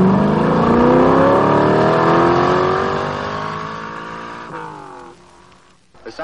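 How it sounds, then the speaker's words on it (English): A Ferrari V12 Formula One car screams loudly past on the Monza circuit, its high engine note steady and then dropping away as it recedes, with a brief sharp burst at the end. "sound of a Ferrari is the favorite sound of just about everybody who has ever driven one"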